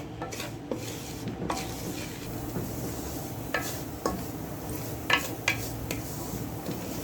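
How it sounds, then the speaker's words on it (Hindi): Semolina roasting in desi ghee over a medium flame, a soft continuous fry under repeated scraping and clinking strokes of a spoon against the pan, close and fairly quiet, without speech. "1 कप जो है हमने सूजी ली है, इसको अच्छी तरह हम भूनेंगे"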